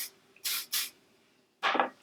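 Drybar Sparkling Soda shine spray misted onto curled hair: two quick close hissing bursts in succession, a pause, then a third longer spritz, in a quiet room.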